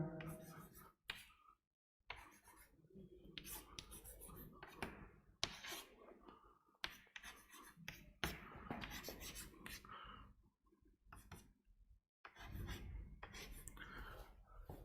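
Chalk or marker scratching and rasping across a board in a physics lecture on thermodynamics, coming in short close strokes separated by pauses, with no voice over it.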